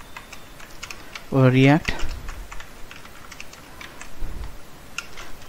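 Rapid clicking keystrokes on a computer keyboard, close and fairly quiet, tapping steadily throughout while someone briefly speaks over them.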